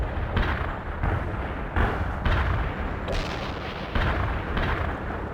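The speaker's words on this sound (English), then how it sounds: "Our barrage hit the target." Artillery barrage in the World in Conflict video game: a string of heavy booms and blasts landing in irregular succession, dense rumbling impacts layered over each other at moderate level, with no talk.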